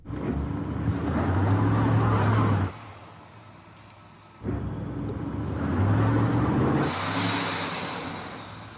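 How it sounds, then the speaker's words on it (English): An Audi Quattro revs hard while its front wheels spin on snow, two long loud bursts of engine roar and tyre whirr with a brief lull between. "I can just see your front wheels spinning and the rears aren't."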